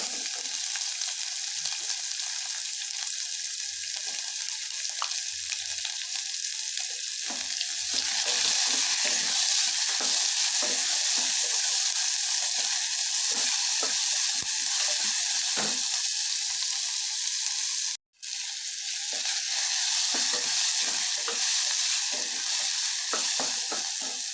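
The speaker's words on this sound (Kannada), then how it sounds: "ಸ್ವಲ್ಪ ಸ್ಪೈಸಸ್ ಎಲ್ಲ ಫ್ರೈ ಆಗಲಿ. ಅದಾದಮೇಲೆ ಸಣ್ಣದಾಗಿ ಕಟ್ ಮಾಡ್ಕೊಂಡಿರೋಂಥ ಈರುಳ್ಳಿ ಹಾಕ್ತಾಯಿದ್ದೀನಿ." Spices and finely chopped onions frying in a pan, a dense continuous sizzle with scraping stirs, close and loud, briefly dropping out before resuming, no one talking.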